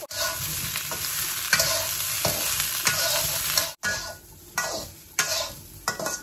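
Vegetables fry and sizzle in a pan for a village-style vegetarian dish, with repeated stirring scrapes breaking the steady sizzle, close and loud.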